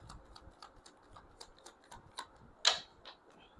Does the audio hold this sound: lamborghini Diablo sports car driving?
no